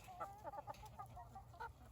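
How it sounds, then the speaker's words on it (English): Hens cluck softly inside a chicken house that holds a single rooster, giving a run of short, faint, close calls over a low steady hum. "There's one rooster in here. The rest of them are all hens."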